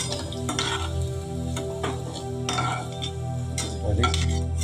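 Food fries in a pot while a utensil stirs it, with scraping clinks and steady sizzling up close, loud and alone without any voices.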